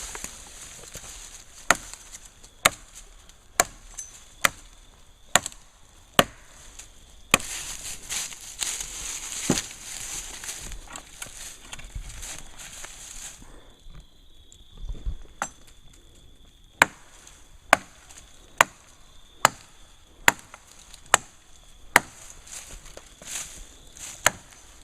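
Branch being chopped off a tree outdoors while building an extreme-weather shelter, heard as a series of sharp, evenly spaced hacking blows, loud and close, with a rustling stretch of leaves and twigs in the middle.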